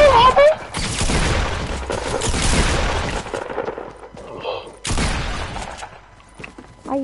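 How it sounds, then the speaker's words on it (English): Heavy gunfire and explosive bursts in a squads battle royale video game, a long loud sustained volley followed by quieter rattling and a second sharp burst, with a voice speaking briefly. "Somebody's shooting at me."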